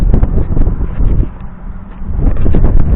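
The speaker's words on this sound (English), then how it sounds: "my trailer was rocking in the wind." Strong hurricane wind buffeting a fifth wheel trailer, a loud continuous rumbling roar with gusty surges that ease briefly in the middle before building again.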